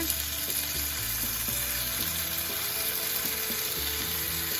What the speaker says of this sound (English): Now here we have 4 cloves of minced garlic